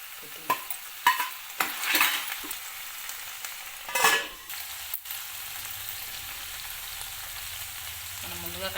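Onions, ginger-garlic and tomatoes fry in oil for a ridge gourd tomato curry: several loud scraping stirs and splattering bursts in the first half, then a calmer steady sizzle, close up and without talk.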